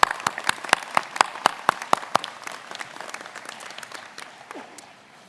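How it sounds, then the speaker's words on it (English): Audience applause at a Massey University graduation ceremony in Manawatū opens with sharp, distinct claps, then swells into a dense round of clapping that gradually fades away. "can we give Juanita another round of applause?"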